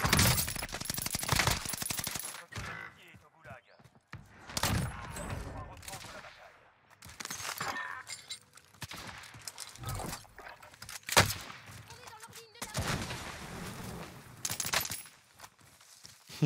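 A small gun fires in a Warzone-style shooter game, in quick bursts of sharp shots spread over the stretch, mixed with footsteps and game noise, with someone talking over it at times.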